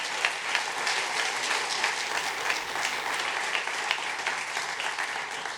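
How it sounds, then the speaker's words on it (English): A large audience at a university public policy building dedication ceremony applauds state legislative leaders; dense, sustained clapping from a big crowd, steady and even with no voices over it. "Give them a round of applause, please"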